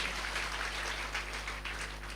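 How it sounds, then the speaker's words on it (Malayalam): A church congregation at a New Year Midnight Mass claps together in a steady, dense patter of applause that holds evenly throughout, with a faint low hum underneath. "കൈയടിച്ച് നമുക്ക് നന്ദി പറയാം"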